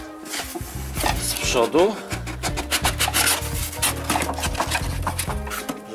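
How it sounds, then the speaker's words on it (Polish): Foam padding being pulled and scraped out of a car bumper during interior restoration work on a Nissan 200SX S13, giving close, continuous rasping and rubbing with crackly bursts, and a few words spoken briefly. "muszę teraz wyjąć tylko tą gąbkę tutaj, czy tą piankę tutaj"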